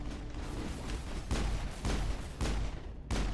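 Gunshots in Mass Effect, several loud, sharp bursts spaced irregularly over a rumbling background, each hitting hard and close.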